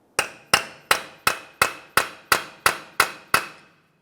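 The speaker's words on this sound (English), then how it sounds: "Continue on with a hammer and punch." Ten sharp metallic hammer-on-punch strikes driving a punch into the center of a 2007-2018 Jeep Wrangler front axle to break it free from the wheel bearing, evenly spaced and close, each ringing briefly.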